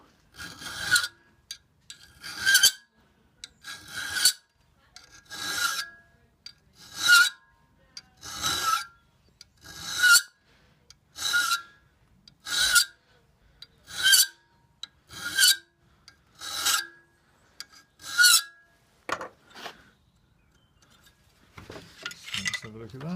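A metal file rasps across an ice axe pick, with a long series of evenly spaced, bright scraping strokes in a steady rhythm, close and clear, ending with a softer rustle.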